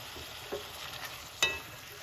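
Vegetables for a Jamaican jerk callaloo stirred in a hot pan, a steady close sizzle broken by two or three scraping stir strokes, the loudest near the end.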